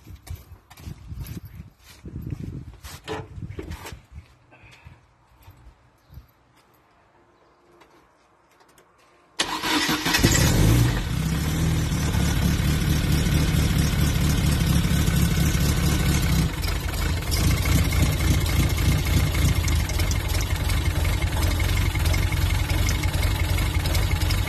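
A stone-cold fuel-injected car engine, unrun for several days, cranks and fires at once, then settles into a steady, fairly low and loud idle that carries on alone after some quieter handling noises at the start.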